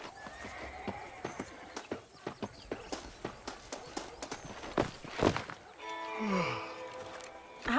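Horse hooves clip-clop in a steady rhythm in Red Dead Redemption, with a loud neigh and whinny rising near the end; brief game dialogue and ambient sounds mix in.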